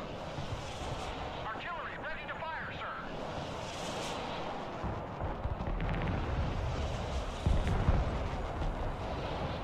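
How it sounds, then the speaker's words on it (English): MLRS rocket artillery in the Broken Arrow video game launches with rumbling, booming blasts and whooshing rocket noise, a heavier surge midway, while a player talks over the battle. "Right, fire MLRS now."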